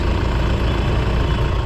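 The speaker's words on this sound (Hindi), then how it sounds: "इंजन है वो एकदम स्टार्ट है और एकदम आइडल कंडीशन पे है, कैसे भी कोई हंटिंग जर्किंग या वाइब्रेशन वगैरह नहीं है" A Hyundai 1.6 litre petrol engine, rebuilt and idling, gives a steady, even drone close by with no hunting or jerking, loud and continuous and with no talk over it.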